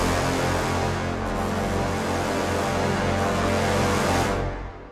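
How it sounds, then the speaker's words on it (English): Low brass and trombones from the Jaeger sample library playing a dense, heavy sustained cinematic passage, loud and full, fading out at the end with no voices. "with that, we have the low brass from Jaeger and the trombones"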